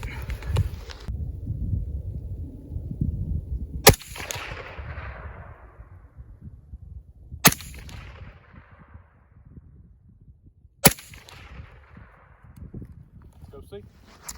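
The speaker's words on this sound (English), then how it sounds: "we're going to show you some groupings of the rifles, 3 shots." A 300 Blackout AR-15 rifle firing 110 grain Hornady GMX rounds outdoors in snow lets off three sharp, loud gunshots spaced a few seconds apart, each with a trailing echo, and faint wind and low handling noise sound between them.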